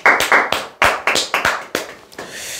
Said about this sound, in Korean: 네, 박수 한번 치시죠.